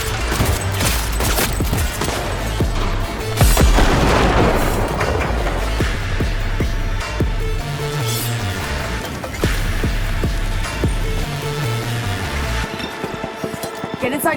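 Loud shotgun blasts from Cyberpunk 2077 Phantom Liberty, a dense string of booming shots mixed with metallic clinks and heavy game action, with a voice talking over part of it.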